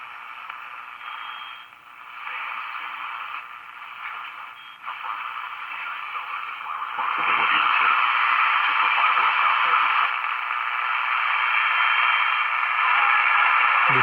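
Steady band of radio static and hiss from a GE GD 60 slant-front radio being tuned across stations, shifting in tone as stations drift in and out, growing louder and denser partway through.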